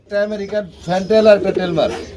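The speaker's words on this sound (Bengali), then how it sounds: "এটা মাদি কবুতর আর তেল মার্ক রয়েছে নর কবুতর" Pigeons at a pigeon market, including a fantail pair, giving close, throaty cooing calls in short repeated phrases.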